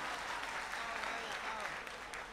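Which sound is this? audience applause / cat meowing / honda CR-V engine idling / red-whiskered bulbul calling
audience applause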